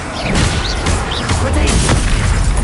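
An Incendio fire spell cast in Hogwarts Legacy gives a loud, steady whooshing roar of flame with crackling bursts and low booms throughout, a voice speaking briefly over it.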